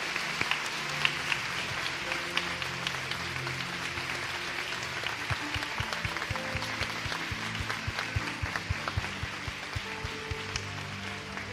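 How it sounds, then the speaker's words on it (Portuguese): Steady applause from a large church audience, many hands clapping in a dense, continuous patter that holds evenly throughout. "Uma salva de palmas pela vida desses irmãos."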